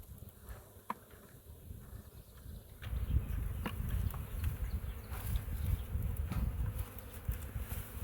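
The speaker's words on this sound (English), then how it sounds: "So the next step here is to go catch that swarm." A honeybee swarm buzzes in a dense, fluctuating drone that grows louder partway through, with scattered clicks and knocks over the hum.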